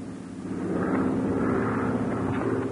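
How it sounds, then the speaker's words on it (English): An airplane flying low overhead makes a steady, loud engine roar that builds over the first second and then holds without voices. "The guard reports an airplane flying dangerously low over here."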